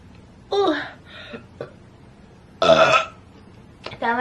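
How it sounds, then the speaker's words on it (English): A woman burping, several loud close belches of varying length separated by short pauses, including one long drawn-out burp in the middle. "Feels so good to burp even though I'm all dressed up and it's not ladylike."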